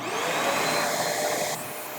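A Riccar S25D upright vacuum with its brush roller running gives a loud, steady whir, close by, which drops slightly in level partway through as the setting changes.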